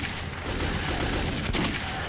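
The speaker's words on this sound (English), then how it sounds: "Probably doesn't take as many bullets as I'm shooting." Sustained gunfire in the video game Metro 2033, a continuous rattling burst of shots, fairly quiet and even across the short stretch.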